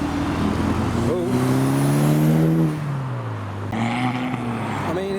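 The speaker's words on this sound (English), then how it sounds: "including the Focus coming through with the green wheels. It's loud it's purple, it's an ST." A loud purple Ford Focus ST roars past nearby at a Japanese car meet in Reading, its engine note rising and then falling away, followed by another vehicle, with people talking faintly in the background.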